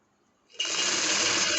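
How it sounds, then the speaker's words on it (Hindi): Sewing machine stitching cloth: after a brief quiet moment the motor starts abruptly and runs as a steady, loud, fast needle whir, continuing evenly to the end. "अब हम यहाँ पे अलग से लगानी शुरू करेंगे सिलाई।"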